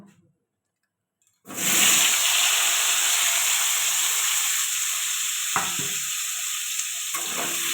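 Potato pieces coated in turmeric and salt drop into a hot pan of oil, bursting into a loud, steady sizzle after a second of quiet that continues close up with occasional stirring scrapes.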